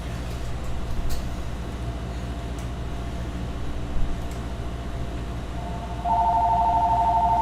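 In a lock shop, a telephone starts ringing near the end with a steady electronic warbling tone that rises over constant low background noise.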